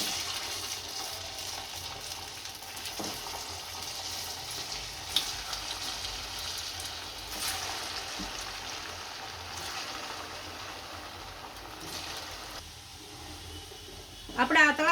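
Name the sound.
poha snacks deep frying in oil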